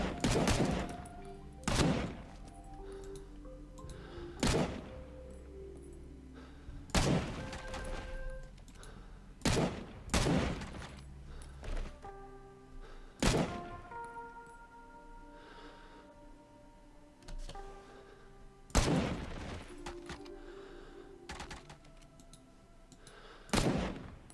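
Gunfire in the Vietnam War shooter Rising Storm 2, with separate loud rifle shots from an M16 or AK cracking out at irregular intervals, each leaving a ringing tail, alongside quieter in-game clicks and mechanical handling noises.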